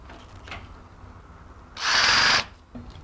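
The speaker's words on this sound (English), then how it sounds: "This is the only time in the process we are screwing not against something that's firm." A power drill drives a screw into a Red Sea MAX S-Line aquarium cabinet without firm backing. There is one loud, close burst of under a second, with light handling clicks before and after it.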